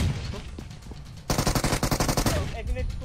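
Rapid, loud gunfire from a DBS shotgun in the mobile game PUBG Mobile: a fast run of evenly spaced blasts after a brief stretch of softer game noise, with a voice speaking lightly near the start.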